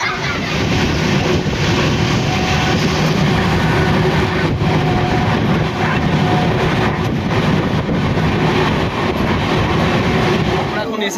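A train at Kharagpur railway station, a loud continuous rumble of rolling coaches and wheels that stays dense and unbroken throughout, close by.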